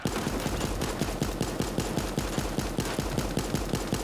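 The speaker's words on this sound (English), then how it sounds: "Stop shooting me!" Rapid automatic gunfire in Super Animal Royale, a fast, even burst of sharp shots that keeps going for several seconds, loud and close, with no voices over it.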